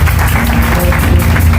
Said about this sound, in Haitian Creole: Applaudissez le Seigneur pour qui est là avec nous